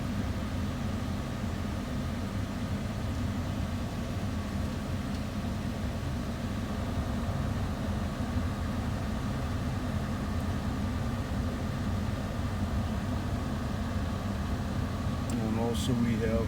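A 2011 Ford Fiesta engine idles just after an oil change, giving a steady, continuous low hum and rumble that stays even throughout, heard close by.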